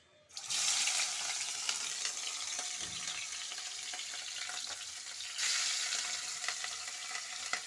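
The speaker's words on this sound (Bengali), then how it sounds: "এবারে মাছটা ভাজা হবে এই যে মাছটা ভাজা হবে" Fish sizzles and spatters in hot oil in a home kitchen pan, a loud steady hiss that swells again near the end, with no talking.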